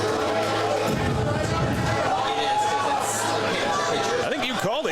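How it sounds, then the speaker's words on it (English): A crowd at a baseball game livens up after a 4-4 tie in the sixth inning, a steady roar of noise and chatter running beneath the close voices of broadcasters talking. "And the crowd comes alive. They do. We're hearing from them."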